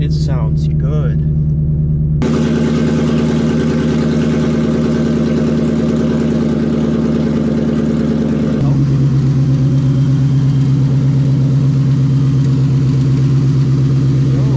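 A Ford Mustang engine with a suspected fault idles close and loud, a steady deep rumble that shifts pitch twice as the revs change slightly.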